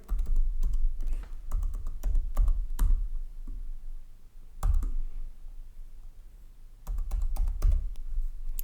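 A password being typed on a computer keyboard makes close, crisp key clicks in quick clusters separated by brief pauses, with no talking.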